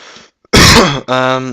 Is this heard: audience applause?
no